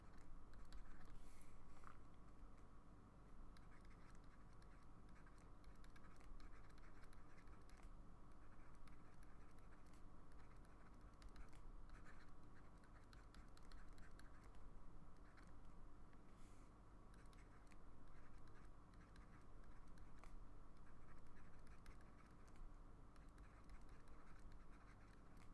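Pen or pencil scratching on paper while handwriting notes, a continuous close, faint scribbling texture with small strokes and pauses, no speech.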